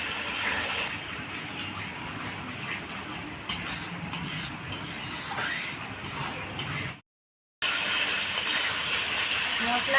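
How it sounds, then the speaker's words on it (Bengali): Masala paste stirred and fried in oil in a pan, a steady low sizzle under repeated scraping of a spoon against metal, with a brief silent gap near the end before the frying noise resumes. "মশলাটা আস্তে আস্তে কষানো হচ্ছে, আর দেখুন কি সুন্দর তেলও ছাড়ছে"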